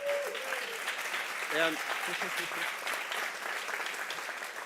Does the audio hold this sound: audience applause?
yes